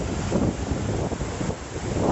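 Strong ocean waves at Cha-am beach in Thailand crash and roll in a continuous, loud broadband roar, heavily mixed with gusty wind buffeting the microphone, with no talk.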